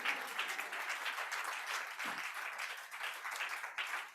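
A church congregation applauds to acclaim the Lord during a French-language worship service, a steady, dense wash of clapping that holds for several seconds at a fairly even level.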